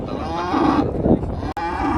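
Cows and calves moo loudly and repeatedly while being loaded onto a lorry at a Sunday cattle market, with several overlapping calls close by and no other sound breaking through.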